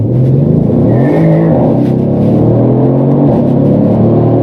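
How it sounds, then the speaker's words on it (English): A Brabus 600 tuned Mercedes C63 AMG V8 accelerates hard on the autobahn, a loud, deep, thunderous engine roar climbing in pitch through gears, heard close and alone. "that thunderous sound combined with that torque, that V8, it just feels like a muscle car"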